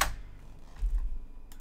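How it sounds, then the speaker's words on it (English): Computer keyboard keys clack faintly in a few quick, light taps, close to the microphone, with no talking over them. "Let's just type this in."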